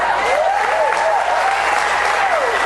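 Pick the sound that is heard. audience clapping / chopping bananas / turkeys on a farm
audience clapping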